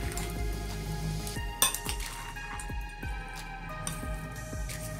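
Fruit chaat being mixed with caramel in a bowl: a run of bright clinks and scraping stirs, one sharp clatter near the middle, over a steady low hum, close and moderately loud.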